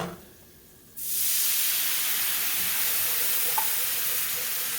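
Juice poured into a hot pan for shrimp pot pie filling, a quiet moment broken by a sudden loud hiss that settles into a sustained, even sizzle.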